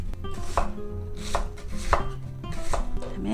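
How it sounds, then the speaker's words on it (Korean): A knife goes through a large pear on a cutting board, cutting it into pieces with about four crisp, juicy chops at a steady pace. The chops sound close and clear, and no one talks. "배를 이렇게 반 갈라서 그 다음에 먹기 좋게"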